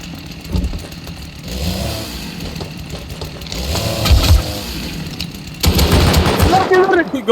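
Gunfire in the online survival game Rust, bursts of shots mixed with engine-like roar and game noise, fairly loud throughout, with a surge near the end; voices talk over it.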